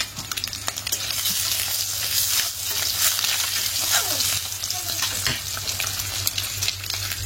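Egg curry with ridge gourd cooks in a pan, giving a steady sizzle and frying hiss with intermittent stirring scrapes and clinks, close by and with no talking.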